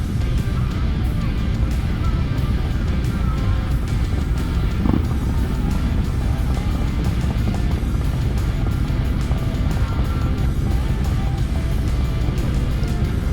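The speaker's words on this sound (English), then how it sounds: "And I'd say there's probably about 200 bikes today." A pack of around 200 motorcycles rides across Hoover Dam on a Memorial Day ride, giving a steady, dense engine rumble with wind buffeting throughout and no pauses.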